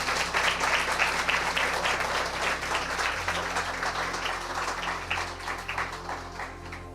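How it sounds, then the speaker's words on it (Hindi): A large church congregation claps loudly and steadily, a dense wash of applause that holds for several seconds and tapers slightly toward the end. "आइए यीशु के लिए जोरदार ताली बजाएंगे।"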